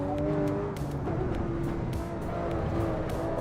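A car in a racing video game drives and corners, its engine a steady droning tone that rises and falls through the laps, with faint tire noise, loud and continuous with no talk.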